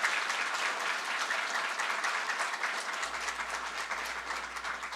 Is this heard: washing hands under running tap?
no